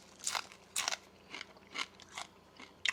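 Bites into the crispy fried tail of a grunt fish, several crunchy bites in irregular rhythm, close and fairly quiet, with no talking.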